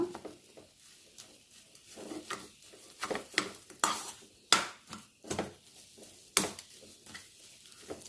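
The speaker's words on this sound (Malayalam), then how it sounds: "പഞ്ചസാര അലിയുന്ന വരെ ഒന്ന് പതുക്കി ഒന്ന് ഇളക്കി കൊടുക്കുക" A sugar mixture for boli is stirred in a pan until it dissolves. Rhythmic scraping strokes and soft metallic clinks repeat every second or so over a faint sizzle, with no voices.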